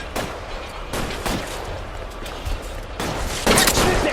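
Gunfire in the crime game L.A. Noire during a shootout, with loud, close shots in irregular bursts and cracks over a noisy background, one heavy blast standing out near the end.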